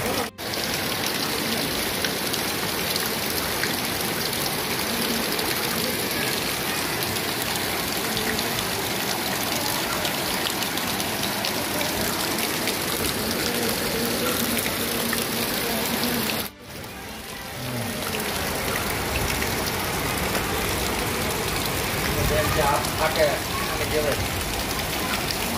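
Heavy, unbroken rain pours down steadily in a short downpour in Sathamba, Bayad, a dense broadband wash of water with a brief dropout partway through, while voices murmur faintly beneath.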